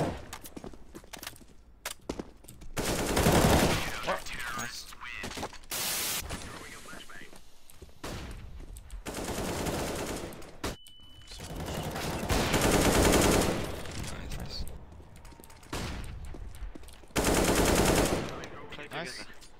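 Rapid bursts of automatic gunfire in a team shooter game, loud and dense, repeating in several sustained volleys over about twenty seconds with brief gaps between them.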